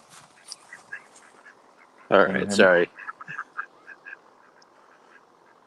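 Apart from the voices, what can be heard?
ducks quacking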